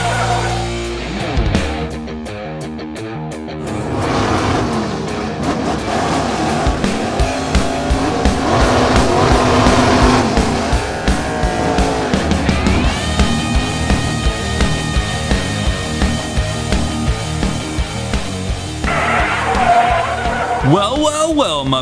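Hot Wheels toy race cars roaring and squealing their tires through a race, a busy run of engine and skidding sounds with rising revs, mixed with voices and music over the full length.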